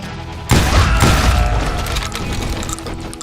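Gunfire erupting in a town street in the Western shooter Call of Juarez: Gunslinger, a loud sudden burst with heavy booms followed by sustained crackling shots and clattering noise, no voices.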